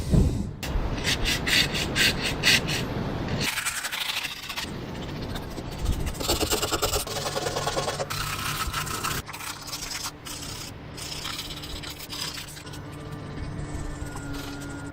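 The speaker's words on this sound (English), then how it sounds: "I'll prepare all these chips, just sand them and wire brush them to get all the salt, and roughen it up a bit so the epoxy sticks" Chipped spots on a fibreglass boat hull being sanded and wire brushed, with bursts of harsh, close scraping and rasping that start and stop in uneven stretches, with no speech.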